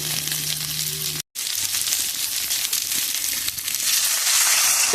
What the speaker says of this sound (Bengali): তো এবার এখন আমি এর মধ্যে জলটা দিয়ে দেবো